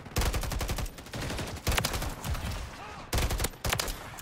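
Rapid bursts of automatic gunfire in Call of Duty: Modern Warfare III hardcore multiplayer, loud and close, in several sustained volleys separated by brief pauses.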